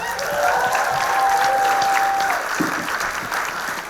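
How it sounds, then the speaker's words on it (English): Warm applause from an award show audience greeting a presenter on stage, steady crowd clapping throughout with a sustained tone of a feedback or mic whine in the first half, tapering slightly toward the end. "Please give a warm round of applause to Greg Garcia."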